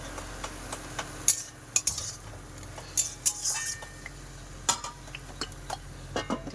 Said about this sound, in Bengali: এখানে তেল যেহেতু গরম হয়ে গেছে, কড়াটাকে নাড়িয়ে দিলাম